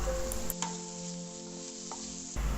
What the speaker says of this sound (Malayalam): ചതച്ച് വെച്ചിരിക്കുന്ന വെളുത്തുള്ളിയും അരിഞ്ഞു വെച്ചിരിക്കുന്ന ഇഞ്ചിയും കൂടെ ചേർത്ത് നന്നായി വഴറ്റി കൊടുക്കുക